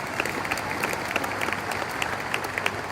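Audience at the Xerocon 2018 conference clapping for a speaker, a steady dense patter of many hands with sharper individual claps standing out, fairly close and sustained throughout.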